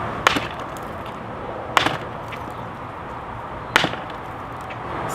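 Hammer blows striking a SOG Seal Pup knife, three sharp, evenly spaced impacts over a steady background hiss, with no talking.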